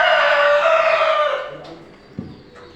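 A rooster gives a loud, close crow that trails off, among household white and local farm chickens, followed by a few faint clucks and a soft knock.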